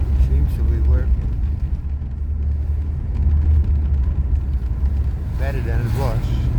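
A Mercedes-Benz W126 engine runs just after a cold start with a steady, deep low rumble close by, while a person talks over it now and then.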